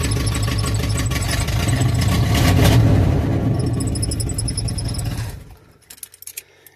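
An engine with a faulty carburetor idles roughly, one side not running right, giving a loud, uneven rumble for about five seconds before it cuts out, followed by a few faint clicks and knocks.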